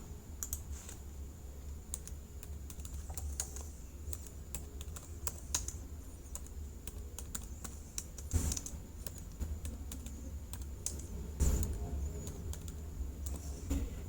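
Steady, close typing on a computer keyboard while item codes are entered into an Excel stock report, with rapid irregular key clicks and a few louder thumps as keys are struck, continuous for the whole stretch and no talking.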